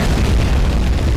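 A deep booming gunshot with a rumbling tail in a Skibidi Toilet game, loud and close.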